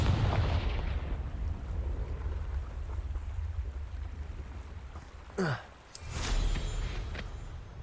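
A Confringo blasting spell goes off in Hogwarts Legacy: a heavy rumbling boom opens, followed by a low roiling tail, then sharp whooshing spell bursts and a second thumping impact near the end.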